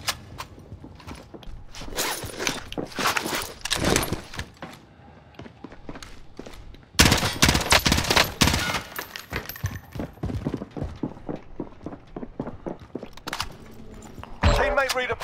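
Gunfire and combat noise in Call of Duty: Modern Warfare, with loud bursts of shots, clattering and impacts, the heaviest burst about midway and another near the end, under game sounds.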